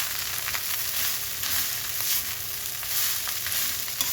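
Garlic fried rice (sinangag) sizzling steadily in a pan while it is stirred, giving an even frying hiss with soft scraping strokes throughout.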